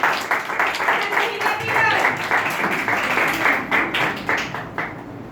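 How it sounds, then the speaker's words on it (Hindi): Congregation applauding in a Pentecostal church, a lively sustained round of many hands clapping at moderate volume, with some voices faintly mixed in beneath the clapping. "आपकी भरपूर तालियों में"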